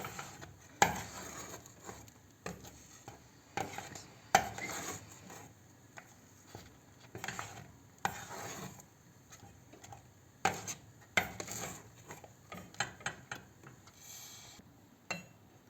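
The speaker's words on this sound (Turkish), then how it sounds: "Bu aşamada kaşıkla karıştırmak daha kolay oluyor" A spoon stirs thick pomegranate lokum mixture in a pot, making a quiet series of irregular taps and scrapes against the pot's sides, close by and with no voices.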